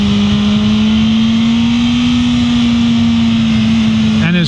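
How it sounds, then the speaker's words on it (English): A 2024 BMW M1000R M Competition motorcycle on its factory exhaust, riding with a steady, fairly quiet engine drone that rises slightly in pitch midway and holds, with wind rush underneath. "This bike is actually quite quiet with the factory exhaust."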